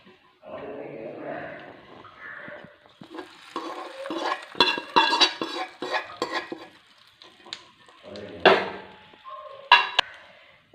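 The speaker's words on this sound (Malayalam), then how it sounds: "ഇത് നന്നായിട്ട് ഇളക്കി മിക്സ് ചെയ്യാം" A spoon stirs coconut chutney (chammanthi) into rice, making soft, irregular scraping and squelching strokes up close for several seconds.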